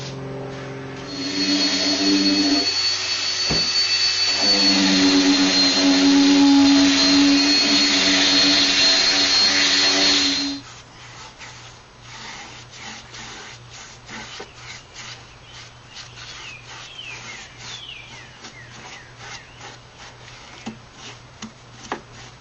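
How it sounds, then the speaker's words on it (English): A power sander works over reclaimed cedar boards for a planter box, a loud steady whine holding for about ten seconds before cutting off, followed by quieter scraping and handling noises. "And so let me get her sanded down."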